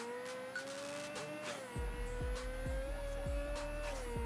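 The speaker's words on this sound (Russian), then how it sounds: "Дрифтить тут вообще одно удовольствие." A car drifts with squealing tires in the video game Mafia 3, set in the 1960s: a steady engine drone with a sustained squeal and a rhythmic pulsing low rumble that grows heavier partway through.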